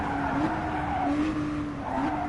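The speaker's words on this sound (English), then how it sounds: "That is the coolest backfire I've ever seen." A twin-turbo V6 race car in Gran Turismo Sport roars steadily at high revs, its engine tone rising and dipping as it runs with a squealing, skidding edge, loud and close without any talk.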